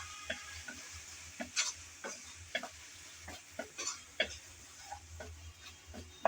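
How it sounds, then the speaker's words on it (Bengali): Pasta with tomato sauce stirred in a pan, a series of close, scraping and tapping spoon strokes in an irregular rhythm over a faint sizzle, fairly quiet with no talking. "টমেটো সস দিয়ে আবারও নেড়েচেড়ে"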